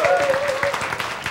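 An audience at a Korean lecture on life gives a brief burst of applause, a dense patter of many hands clapping at moderate distance.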